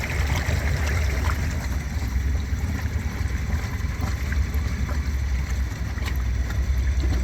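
A Kawasaki Pioneer 1000 UTV pushes deeper into a pond, giving a steady churning wash of water over a low engine drone, continuous and close with no talk.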